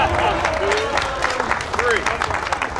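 Applause from a gathered crowd at a groundbreaking ceremony, steady clapping throughout while a voice talks over it.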